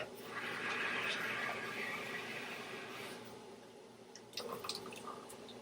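Water pours steadily into a measuring cup for a few seconds with a hissing, splashing rush, then tapers off into a few faint drips and small splashes.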